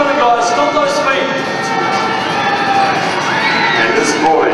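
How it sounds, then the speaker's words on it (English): A basketball arena crowd at a New Zealand NBL game cheers, shouts and whoops in a loud, sustained roar, with an announcer's amplified voice over the noise. "let's make some noise, back in those seats, stomp your feet"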